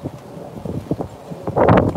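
Gusty wind buffets the microphone, rising to a louder rush near the end, with faint rustling and low rumble throughout.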